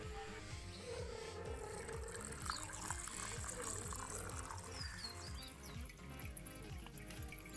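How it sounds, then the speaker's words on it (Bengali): Rice is washed by hand in water in a pot. Nearby sloshing and swishing churns in a steady, repeating rhythm, and no one speaks. "এবারে আমি চালটা ধুয়ে নেব।"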